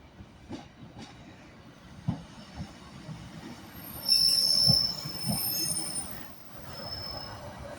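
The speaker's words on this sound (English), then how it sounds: "Arriving into Carlisle now is a Northern Service with one of their 156s from Whitehaven, the terminating service, 156451." Northern Class 156 diesel unit arriving at Carlisle station on a terminating service from Whitehaven, with rail noise, wheel squeal and a louder rush mid-clip, heard at moderate distance.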